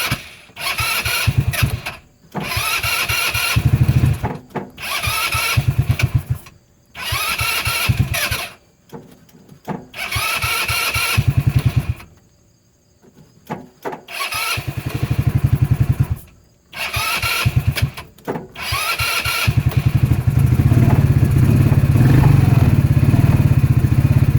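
A Hammerhead R150 engine, freshly fitted with a new cylinder and piston, cranks and catches in a series of loud, close bursts that cut out between attempts, then settles into a steady running rumble.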